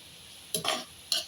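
Carrots being stir-fried in a pan for fried rice, two short sharp scraping stirs with a brief sizzle, close and otherwise quiet.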